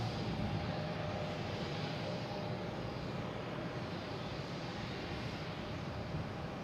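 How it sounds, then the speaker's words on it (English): An American Airlines A321neo departing Boston Logan for Charlotte produces a constant broad, roaring engine wash at moderate distance, with no talk. "Here we have American Airlines taking off to Charlotte, an A321neo"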